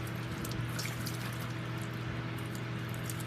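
Wine pours in a steady, faint trickle over a ham being rinsed for homemade prosciutto or country ham, with a low hum underneath and no voices.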